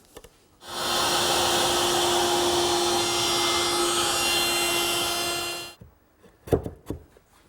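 A table saw runs one steady pass through a dovetail cut in woodworking, a loud continuous whine for about five seconds, then winding down into a few scattered knocks and handling sounds.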